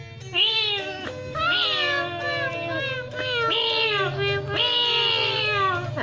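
A person imitates a cat by pinching their nose, giving four drawn-out, wavering meows in a row, close and fairly loud, with short pauses between them.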